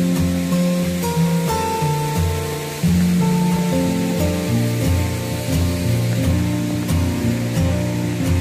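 Water cascades down a forest waterfall in Dhankuta as a continuous loud rush of spray and falling water, with a melodic tune layered on top and a brief dip partway through.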